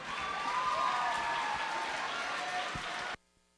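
Audience applause at an 8th grade awards ceremony: a steady, dense wash of clapping that fills the room evenly for about three seconds, then cuts off abruptly into near silence.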